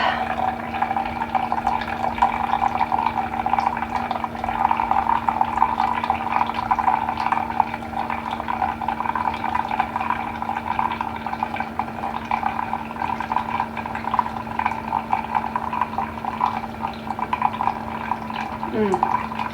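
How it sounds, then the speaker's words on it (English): A Keurig coffee maker brews coffee with a steady, continuous hissing and gurgling of hot water that runs unbroken throughout. "And I will have to put some more coffee in the Keurig."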